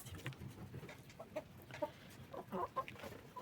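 Chickens in a henhouse cluck softly with scattered short calls and a few brighter notes, close but quiet over low background noise.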